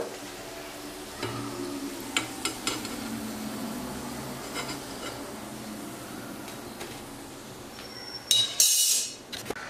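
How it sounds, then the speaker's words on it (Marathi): Gujarati methi muthiya dumplings frying golden in oil make a continuous soft sizzle and bubbling with occasional light stirring taps, ending in a louder hiss and clatter. "आता आपण सगळे जे आपले मुठिया केलेले आहेत ते तळून घ्यायचे आहेत छान गोल्डन कलरवर"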